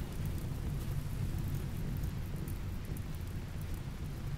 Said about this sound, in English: Okay, it's raining now.